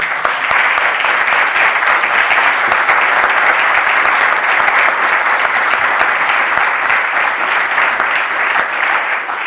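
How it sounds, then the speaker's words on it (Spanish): An audience at a book presentation about the man behind Amstrad Spain claps loudly and steadily, a dense, sustained round of applause filling the room without pause. "Os puedo pedir un aplauso, Pai?"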